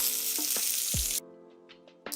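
Onions sautéing in hot oil in a pot give a loud, close, hissing sizzle with a few soft stirring knocks, then the sizzle cuts off abruptly, leaving quiet clinks.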